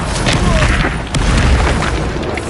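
Confringo fire spell exploding during combat in the Hogwarts Legacy video game, giving a loud booming blast that rumbles for a couple of seconds, close and full.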